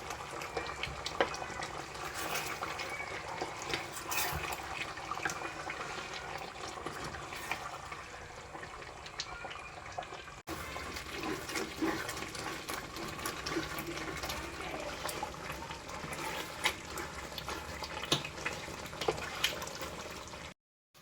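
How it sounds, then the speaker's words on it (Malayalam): Kerala-style coconut milk chicken curry boils down in a pot with a continuous, dense bubbling and spluttering that holds steady at moderate loudness, with a brief break partway through. "ചിക്കൻ കറി നല്ലപോലെ കുറുകി തിളച്ച് നല്ല ചൂടാവിയിൽ ഇങ്ങനെ പറക്കുന്നു"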